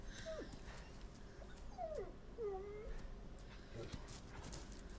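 Dog whimpering in the Resident Evil 9 video game, several faint high whining yelps with rising and falling pitch, spread across a few seconds over a low rumbling game ambience.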